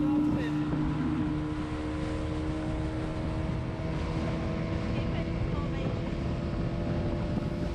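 Speedboat cruising across San Diego bay, a steady close engine drone with hull and water rush and some wind buffeting on the microphone, continuous and fairly loud throughout.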